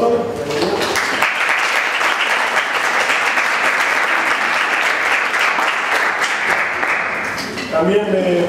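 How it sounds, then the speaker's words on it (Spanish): A university audience at a social-change education forum in Uruguay applauds a vice-rector of extension, a dense, steady wash of clapping lasting several seconds, with a voice briefly audible just before and after. "los saludamos con un aplauso"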